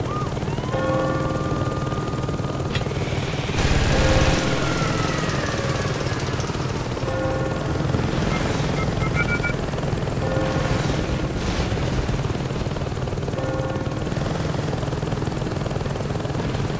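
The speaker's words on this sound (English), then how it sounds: "You take a helicopter and blow those things up, you'll crash their security." A helicopter in the video game Saints Row 2 drones with a steady rotor thump and engine whine, loud and continuous, with occasional booms and tonal game effects layered over it.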